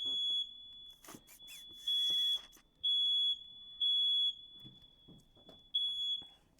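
A smoke alarm beeps in a quiet room, sounding a steady high-pitched tone in several loud bursts of roughly half a second each, with a faint continuous tone between them.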